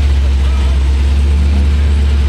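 A loud car engine idles steadily at a car meet, a deep constant rumble filling the short stretch with crowd chatter faintly underneath.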